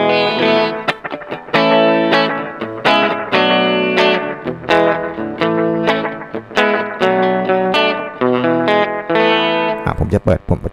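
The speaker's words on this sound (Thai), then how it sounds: "ผมก็คือติดค่าไทม์น้อยๆหน่อยนะครับผมให้มันเหมือนจะเป็นรีเวิร์บไกลๆนะครับ" Electric guitar played through an 8Note Chrono Tap delay pedal on channel A, set to a short delay time for a distant, reverb-like wash; loud sustained chords and notes ring continuously with soft trailing repeats, alone with no voices.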